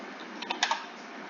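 Short burst of typing on a computer keyboard while entering a value in CAD software, a few quick close key clicks over a faint steady hum.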